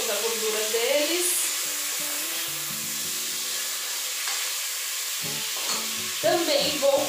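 Pork ribs sauté in a hot pan for a winter canjiquinha, a steady close sizzle and crackle running throughout, with brief stirring scrapes and some low rattling near the end.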